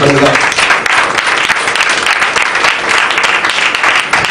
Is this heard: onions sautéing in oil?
no